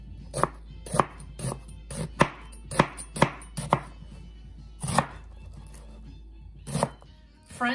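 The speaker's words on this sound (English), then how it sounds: "Gonna cut up my onion next. Just a medium chop, like I did the celery." A knife chopping an onion on a cutting board for cheeseburger soup, a dozen sharp close thuds in an uneven rhythm with short pauses, over a low steady hum.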